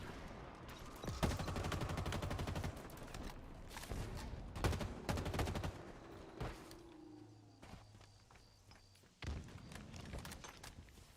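Assault rifle fire in a Halo video game: repeated rapid bursts of automatic gunfire with thuds and impacts, loud and up close, broken by short pauses and a lower-pitched hum midway.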